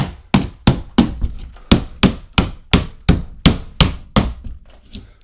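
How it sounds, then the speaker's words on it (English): A hammer strikes a drywall wall about a dozen times in a steady rhythm, breaking it down, each hit a sharp crunching thud with brief debris rattle. "just go make a line with your hammer. Go right down the drywall."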